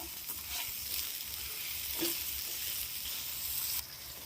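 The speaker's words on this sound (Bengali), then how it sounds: "এবার চিনি দিয়ে আমি ভালো করে নাড়তে থাকবো।" Sugar being stirred in a pan over low to medium heat while making apple chutney, giving a steady soft sizzle with light scraping throughout and a brief clink near the middle.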